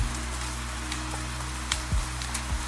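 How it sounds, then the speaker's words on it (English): Soft rain patters on rooftops at night in a city, a steady, gentle hiss of drops with a few faint isolated taps, quiet and unbroken with no voices. "The rain is tapping softly on the roofs."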